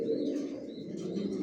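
Pigeons of a single Johnson line coo steadily inside a newly built loft, a continuous low, throaty murmur from several birds with faint chirps above, close by and without any voices.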